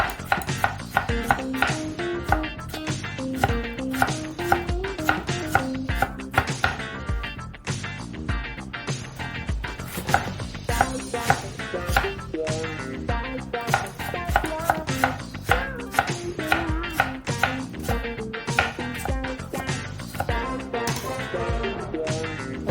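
An apple is chopped into small pieces with a knife, a fast, steady run of crisp blade knocks that carries on without pause for over twenty seconds.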